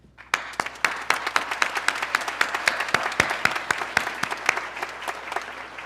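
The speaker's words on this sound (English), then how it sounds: "Mr. Bob Nicholson, I applaud you." Commencement crowd at Sussex County Community College in 2016 applauding: crisp, rapid hand claps that start abruptly and continue steadily at close range, loud and unbroken, with no talking.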